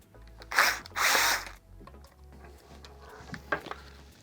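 Power drill spinning out screws from the bottom cup of a GDS Tough-Dock tablet dock, two loud whirring bursts close up, followed by quieter clicks and a short final buzz.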